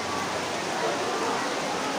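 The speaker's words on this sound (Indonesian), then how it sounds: "hujan yang lebat juga hujannya" Heavy rain falling around an open-air forest coffee spot in Blado, Batang, a steady broadband hiss that stays even and fairly close for the whole stretch, with no voices breaking through.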